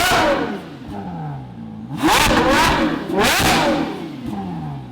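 A Ferrari Purosangue with an aftermarket exhaust revs loudly at close range, two sharp sweeping blips rising and falling over a steady running engine.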